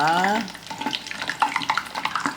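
Garlic frying in a pan, a fairly quiet sizzle broken by scattered small clicks and scrapes, with a brief tonal sound at the start.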